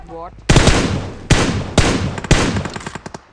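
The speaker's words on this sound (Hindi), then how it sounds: "अब यहाँ पे मैं जैसे ही एम फोर से बोट फायर करता हूँ" M4 rifle fire in a mobile battle royale game, loud close bursts in four separated volleys with sharp repeated shots trailing off at the end.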